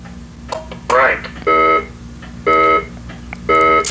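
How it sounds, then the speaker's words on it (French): Amateur radio antenna rotor control sounding a steady electronic tone while the rotor turns right: three evenly spaced beeps, each about a third of a second long and clearly loud. Before them comes a short sweeping chirp, with a low hum running underneath throughout. "si mon rotor va vers la droite, on entend une tonalité"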